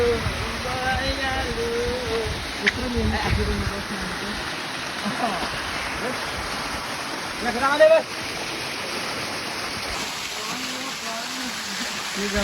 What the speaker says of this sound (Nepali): पहिलो झरना यो चाहिँ